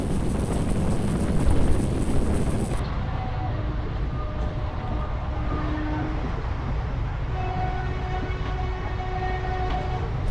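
A Bhimavaram to Nagarsol express train runs at speed on a nonstop stretch between Gudivada and Vijayawada, giving a loud, steady rumble and wind rush with faint tonal whines, heavier at first and then evening out.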